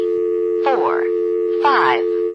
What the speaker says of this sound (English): if you really want the dial tone to go on for 20 seconds